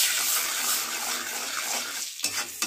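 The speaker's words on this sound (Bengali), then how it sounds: "কড়াতে দিয়ে দিয়েছি আমি তেল, এতে দিয়ে দেবো এক এক করে হলুদ গুঁড়ো, লঙ্কা গুঁড়ো দিয়ে হালকা করে একটু কষিয়ে নেব" Turmeric and chili powder frying in oil in a kadai, a dense steady sizzle with stirring that ends in a few quick metallic scrapes, close and unaccompanied by talk.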